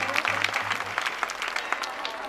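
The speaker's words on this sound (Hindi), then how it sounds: "इसी क्रम में आप ताली बजाएं" An audience claps in steady applause at a village yajna festival, honouring young girls; dense, continuous clapping from a crowd, fairly close, with a low hum underneath.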